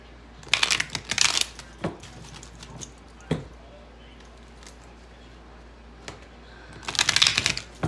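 A deck of tarot cards is shuffled in quick riffling bursts near the mic, with scattered taps and softer clicks between them and a longer shuffle near the end.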